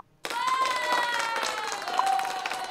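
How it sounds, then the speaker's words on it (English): A canned applause sound effect plays on a live studio stream, with a crowd clapping and cheering and a whistle-like tone, starting abruptly and holding steady and fairly loud. "Just applause."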